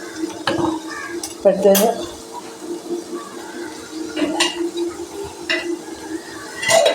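Long beans and raw banana being stirred in a pan, with clinks and scrapes of a utensil against the pan under a soft sizzle, and a brief spoken word partway through.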